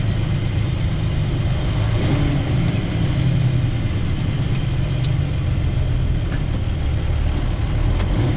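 Heavy truck engine rumbling steadily during a training drive, revved before the driver slides into the next gear, a constant low drone with faint clicks and no talk.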